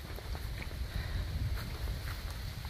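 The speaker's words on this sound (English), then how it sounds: "A little bit windy this morning, a little bit chilly." Wind on a rocky hiking trail buffets the microphone with a low, steady rumble and gusty roar for a few seconds, with no voices.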